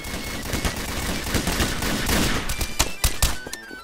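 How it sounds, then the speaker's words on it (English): Gunfire in Garry's Mod DarkRP, a burst of sharp repeated shots with several loud cracks toward the end over a dense, busy game-scene background. "Hey, watch out what you're shooting."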